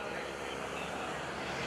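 A Stearman biplane performs aerobatics at an airshow, its engine a steady, distant broadband drone throughout, with faint voices in the background.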